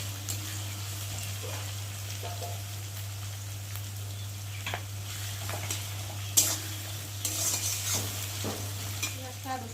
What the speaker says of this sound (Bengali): রসুনটা ভালো করে একটু ভেজে নেবো